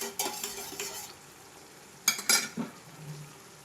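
Spoon stirring tomato curry in a pot, with a few scraping and clinking strokes near the start and a sharper burst of clatter near the end, separated by a quiet stretch.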